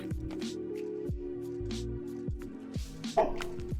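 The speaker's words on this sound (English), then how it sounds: "How loud would this bark have to be in order to actually move the dog?" Dog barks from a video game, a run of short cartoonish yips with falling pitch repeated every second or so over steady electronic game tones, without speech.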